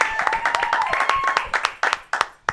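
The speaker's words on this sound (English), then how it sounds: "round of applause for Isaiah" An audience claps for a performer at a live variety show, with steady applause and scattered individual claps running under a sustained tone and some voices.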